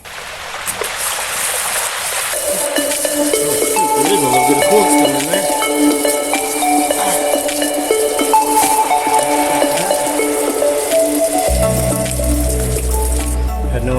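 Coolant drains out of a car radiator in a steady, close splashing trickle that runs without pause, and a low droning hum joins in near the end.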